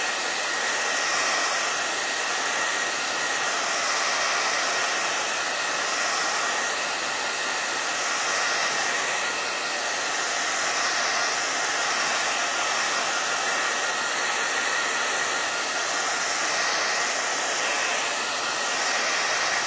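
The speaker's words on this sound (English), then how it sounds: "When I dry it, when I'm working with the milk paint and the cracked gesso, it's better to use a blow dryer than a heat gun" Hair dryer blowing steadily and loudly to dry milk paint and cracked gesso, an unbroken airy roar throughout with no talking.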